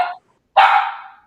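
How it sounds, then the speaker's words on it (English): A dog gives a short bark, then after a brief pause a louder, longer bark rings out close by, with no other sound around it. "there's my dog right there. She agrees as well."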